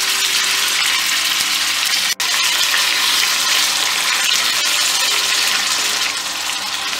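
Ground meat fries in a little oil in a pan, a loud, dense, continuous sizzle lasting several seconds with one sharp click partway through and no talking.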